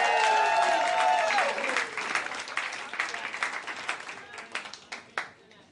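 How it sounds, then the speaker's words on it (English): A studio audience applauds a stage act on a home renovation show, loud, dense clapping at first that thins into scattered, fading claps and a few sharp individual hits toward the end. "A round of applause."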